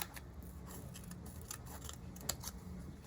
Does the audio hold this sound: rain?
no